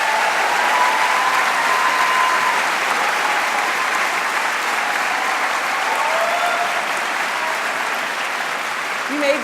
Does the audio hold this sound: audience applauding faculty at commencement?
yes